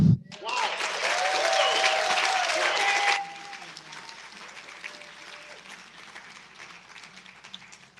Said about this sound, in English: Another round of applause for Chancellor Castro.